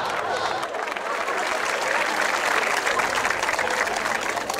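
A comedy show audience applauds a comedian. Dense, steady clapping from a crowd holds throughout, with a faint murmur of voices mixed in.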